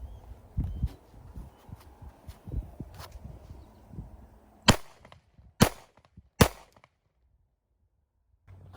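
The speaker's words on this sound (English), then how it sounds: "we're going for another rapid fire string, and I'm going to give you this angle, that way you can see the 365 XL in action" Three sharp pistol shots from a Sig P365 XL, each a loud crack less than a second apart, after a stretch of quiet shuffling and handling noise.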